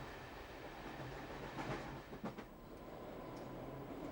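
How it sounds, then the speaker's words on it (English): A train rumbles steadily past at moderate distance, with a brief cluster of clacks and a faint squeal in the middle of a continuous rolling noise. "Some people go by train."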